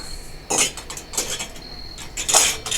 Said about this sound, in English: So now we'll go ahead and ladle this into the jar.